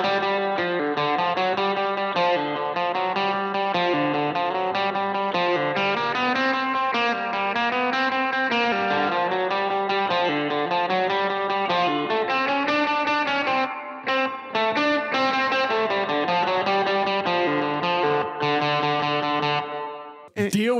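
Electric guitar played through Mercury X and Bigsky MX spring reverb presets, a sustained, shimmering melodic line with wet, washy spring reverb tails, steady and upfront, briefly dipping before a sudden stop near the end.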